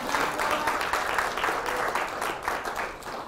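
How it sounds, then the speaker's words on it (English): An audience at a speaker series event applauds, a dense, continuous wash of clapping at moderate volume that holds steady for a few seconds. "So let's give a round of applause to Melcher,"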